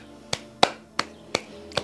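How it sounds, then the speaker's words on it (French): A single person claps their hands during a morning yoga mudra routine. Five sharp, close claps arrive at an even pace in a quiet room. "commencer à taper dans ses mains pour venir vraiment réveiller vos mains"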